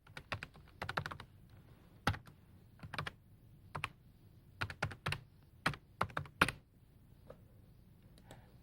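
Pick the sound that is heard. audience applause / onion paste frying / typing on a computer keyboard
typing on a computer keyboard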